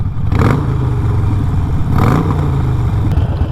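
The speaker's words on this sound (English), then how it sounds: "It seems like it's revving better now." A 2020 Harley-Davidson Roadster fitted with a Vance and Hines Fuel Pack is heard up close, its engine rumbling steadily and twice revving sharply in quick blips, with no talking.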